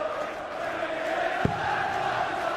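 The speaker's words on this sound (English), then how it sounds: "And the crowd are up for it already." A large darts crowd roars at the Hydro arena during a 2014 Premier League of Darts match, a steady wash of cheering and shouting filling the hall, with a single sharp thud partway through.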